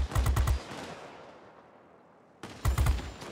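Bursts of 30mm cannon fire from a Messerschmitt Bf 109 G in the World of Warplanes video game, a rapid four-round volley, a quiet gap, then another short burst, close and punchy.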